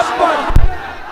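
A crowd at a religious sermon gathering roars back a chanted slogan, one loud swelling shout in answer to a leader's call, close and brief.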